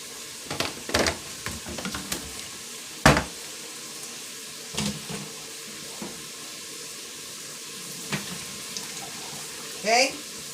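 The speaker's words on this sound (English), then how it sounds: "I'm going to drain these potatoes." Boiled potatoes drained into a colander on a kitchen stove, with a hissing rush of water and steam, a few clanks and knocks of cookware, and a person speaking now and then.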